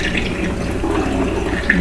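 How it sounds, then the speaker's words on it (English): Home-brewed kombucha poured into a jug with a handle and spout, a steady close liquid stream splashing continuously with a small bubbly spatter near the end. "I like to pour it into something with a handle and a spout"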